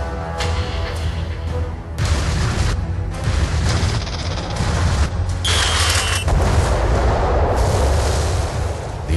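Atomic bomb explosion from the Manhattan Project test in New Mexico, heard as a series of deep, heavy booms and rumbling blasts that roll on continuously, loud and dense, with bursts of crackling debris-like noise and no voices.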